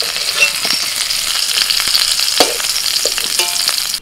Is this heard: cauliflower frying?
yes